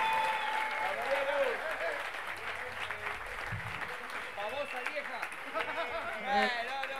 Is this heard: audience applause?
yes